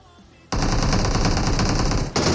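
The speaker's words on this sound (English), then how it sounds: "He threw a nade and shot Trick at the same time." Sustained loud burst of video game gunfire lasting under two seconds after a quiet start, with a dense rattle and a brief dip before the shooting resumes, in a competitive online shooter scrim.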